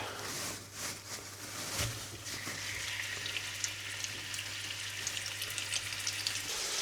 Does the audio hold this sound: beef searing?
yes